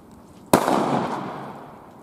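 A single sharp firework bomb tube blast from a box of mixed leftover pyrotechnics and firecrackers cracks loudly outdoors, followed by a long decaying rumble and crackle with no voices.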